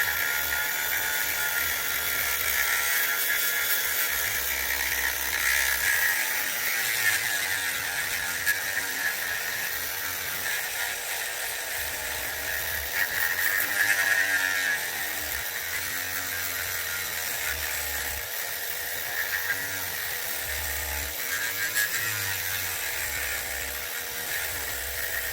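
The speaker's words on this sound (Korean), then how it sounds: "이런 식으로 이렇게 해서 이 안쪽을 갈아주시면 됩니다." A rotary tool grinds the inside of a homemade slingshot handle, a continuous high whirring buzz that runs unbroken and fairly loud throughout, with slight shifts in pitch as the bit works the material.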